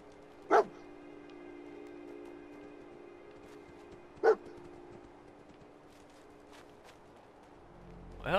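A dog in a video game barks twice, sharp isolated single barks several seconds apart, with a quiet steady ambient hum between them and a faint rise of other sound at the end.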